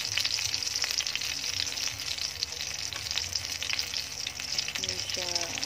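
Lumpiang shanghai spring rolls fry in a shallow layer of oil, a steady, dense sizzle and crackle close by with faint scraping near the end, no talk.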